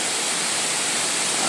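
Waterfall in the Western Ghats of coastal Karnataka roaring as a steady, loud broadband rush of falling water, close and continuous with no voices.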